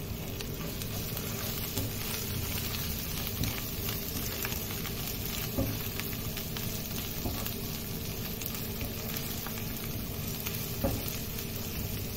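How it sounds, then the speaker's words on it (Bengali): Onion and spices with salt sizzle and fry steadily in a pan while being stirred, a continuous close crackle with occasional scrapes and no talk. "এবার এটাকে আমি ভালো করে লেড়ে নেবো।"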